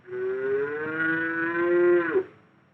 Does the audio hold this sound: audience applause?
no